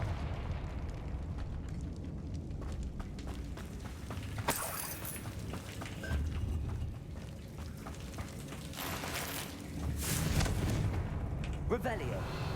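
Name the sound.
Confringo spell blasts in Hogwarts Legacy video game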